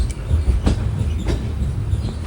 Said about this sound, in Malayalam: ട്രെയിൻ ഇതാ മയിലാടുതുറൈ ജംഗ്ഷൻ റെയിൽവേ സ്റ്റേഷനിലേക്ക് എത്തുകയാണ്